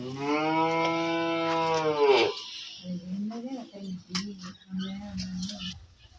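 A dairy cow, newly calved, gives a long loud moo up close, then lower, shorter calls follow as a person talks over them.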